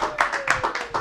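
A comedy club audience claps for a stand-up comedian in a brief, uneven patter of hand claps lasting about a second, fairly close and moderately loud.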